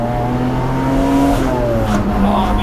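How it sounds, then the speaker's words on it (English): A Nissan R31 Skyline with an RB30 engine rumbles loudly up close, its throbbing exhaust note shifting with throttle in a steady, continuous run. "this sounds very much like an old school 240Z with that noise"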